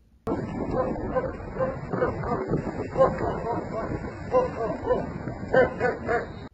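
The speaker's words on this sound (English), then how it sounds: "Here you see this dog barking at random people driving by in a car for no reason" A dog barks and yips repeatedly at people driving past in cars, in busy uneven bursts mixed with whimpers, with a background murmur.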